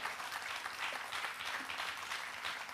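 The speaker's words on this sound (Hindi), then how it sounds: "अपने लिए तो तालियां बजा लो।" Steady applause from an audience, many hands clapping continuously at moderate volume with no pauses.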